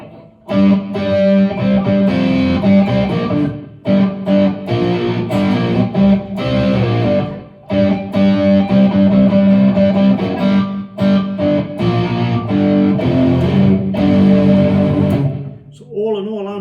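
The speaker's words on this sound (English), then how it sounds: "So if I look for a Marshall amp, 12 o'clock distortion," A heavily distorted electric guitar through an iSET Cube Baby multi-effects pedal's Marshall amp model, distortion at 12 o'clock, plays loud, continuous riffs and chords, with short breaks between phrases and a sustained final chord.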